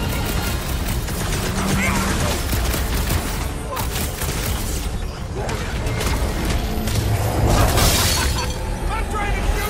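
Dense gunfire in Marvel's Guardians of the Galaxy rattles and crashes continuously amid shattering impacts and mechanical clatter, loud throughout, with a voice shouting over the fight.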